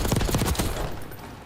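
Rapid, loud automatic gunfire from a Call of Duty League match, a dense burst of closely spaced shots that tapers off toward the end, no speech over it.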